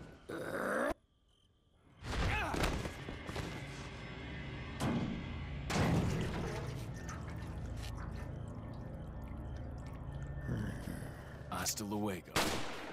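Shotgun blasts boom in Resident Evil 4 (2005) during a boss fight, several loud separate shots with heavy tails between game effects, grunts and groans.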